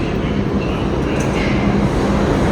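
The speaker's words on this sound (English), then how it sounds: "6 train to Liberation City Hall, approaching the station." A New York City 6 subway train rumbles steadily into the platform, a continuous loud low roar with no talk over it.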